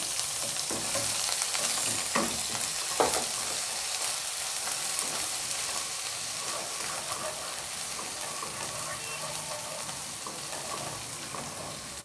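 Steady sizzling of ginger and garlic frying in hot oil for chicken korma, with occasional clinks of a spoon stirring the pan, continuous and close.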